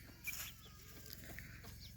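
Kadaknath chickens cluck nearby on a farm, a few short clucks over a steady low background hum, with no talking.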